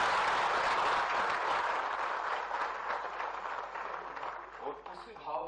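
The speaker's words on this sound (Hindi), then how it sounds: "जोरदार तालियां बजाए" Sustained applause from a conference audience at a state-level cooperative convention, a dense steady wash of clapping that fills the whole stretch and thins slightly toward the end.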